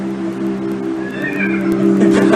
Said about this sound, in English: somehow he makes a horse noise